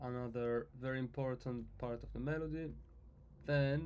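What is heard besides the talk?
No everyday noise stands out behind the speech.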